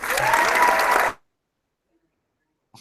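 A short burst of crowd applause, loud and close, cuts off abruptly into silence, followed by a faint brief sound at the end.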